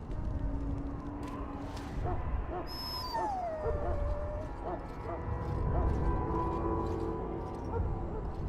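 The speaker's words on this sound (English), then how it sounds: "Now I can treat the dog properly, poor fella." A dog whimpers in a pen in the Dragon Age: Origins video game, with soft whines and yips over a steady ambient game background, near and moderately loud throughout.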